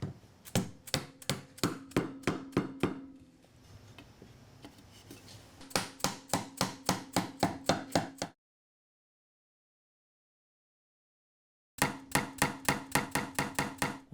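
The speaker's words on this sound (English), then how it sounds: "I'm going to test assemble the unit by first tapping the dowels into one bracket." Sharp, evenly spaced taps of wooden dowels being driven into a 3D printed shelf bracket, coming in quick bursts of a dozen or so knocks, separated by a short softer stretch and a silent gap.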